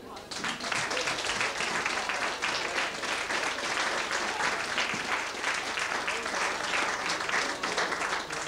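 A crowd at a carnival event applauds, dense and sustained clapping that fills the room evenly from start to finish, fairly close and steady.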